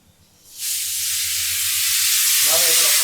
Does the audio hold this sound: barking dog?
no